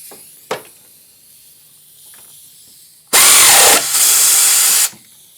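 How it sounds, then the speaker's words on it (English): An air ratchet tightens the alternator bolts on a 1997 Toyota Camry V6, starting after a single sharp tap and quiet shop air, then running as two loud, close, hissing bursts of over a second each, separated by a brief dip. "This is just an air ratchet."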